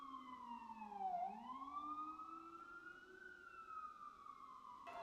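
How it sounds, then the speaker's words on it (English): An emergency vehicle siren passes outside, a steady wailing tone that sweeps down, then rises and holds, moderately distant and fairly faint, heard alone without talk. "So my apologies about the sirens, guys."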